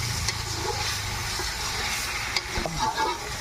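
Ginger being fried and stirred in a hot pan while a duck curry is cooked, a steady sizzle with scraping stirs and a few clinks, close and continuous.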